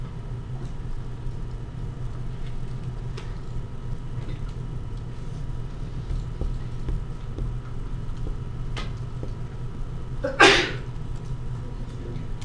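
A single sharp sneeze bursts out near the end, brief and close, over a quiet room hum during a physics lesson on two-dimensional billiard momentum.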